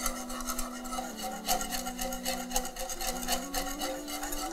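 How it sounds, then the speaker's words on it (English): Kuka powder being whisked gradually into a pot over low heat for tuwo masara gives steady, rhythmic scraping and rubbing strokes, fairly close, running under a sustained tonal background. "So using the whisk, I'll begin to add my kuka powder gradually"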